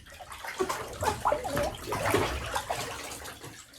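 Water sloshes and splashes steadily around a person sitting in a bathtub, with close gurgling movement throughout and no talking.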